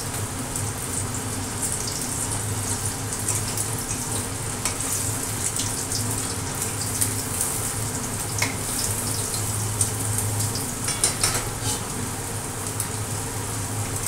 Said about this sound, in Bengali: মাছ একটু ভালো করে না ভাজলে না ভালো লাগে না। আর এটা যেমন নাকি পমফ্রেট মাছ খুব একটা ভাজা যায় না।